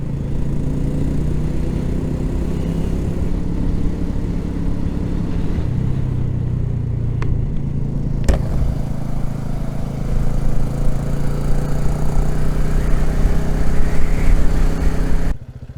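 A BSA Goldstar 650 motorcycle engine labours steadily through deep floodwater, a loud continuous mid-pitched drone with a sharp knock partway through and a rising, rougher note toward the end before it cuts off.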